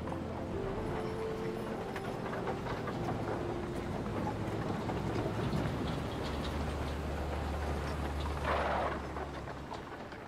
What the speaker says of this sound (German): wenn man jetzt noch den Sound einer Stadt Anfang des 20. Jahrhunderts drüber legt